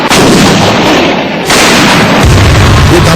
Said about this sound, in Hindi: सेना की ऐसी कई तोपें गरजती और बरसती हैं